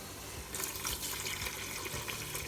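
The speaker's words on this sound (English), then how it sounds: "Okay, so now I'm going to add some water." Water pours steadily into a pot of mushroom soup on a home stove, a soft, continuous splashing gush with faint irregular clinks, nearby and moderately quiet.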